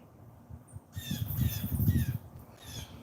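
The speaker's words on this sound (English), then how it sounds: "Now the birds are just being annoying at this point" Outdoor birds call in a series of sharp, repeated squawking chirps at close range, loud and insistent over a low background rumble.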